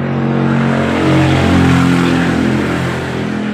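A vehicle drives past near railway tracks, a loud, steady engine roar that swells in the middle and then eases off, with no voices.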